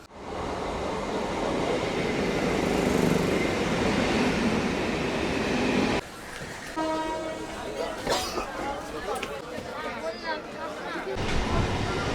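A loud, steady train rumble fills the first half at Berhampore railway station, then drops to quieter rail noise with a person talking over it.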